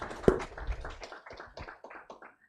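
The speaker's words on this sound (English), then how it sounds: "Let's give Ms. Mentor and the panelists a round of applause." A small audience at a litigation training session gives a short round of applause for a mentor and panelists, a few close, sparse claps that quickly thin out and fade to silence.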